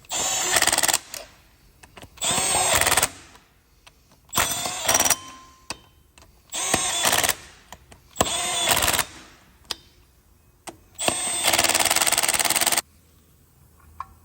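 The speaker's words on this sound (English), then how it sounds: "I got my Milwaukee Impact, and it's set on the very lowest setting." Milwaukee impact wrench on its lowest torque setting, used during tire and suspension work, fires in seven separate bursts of loud mechanical rattling, each roughly a second long, separated by short pauses.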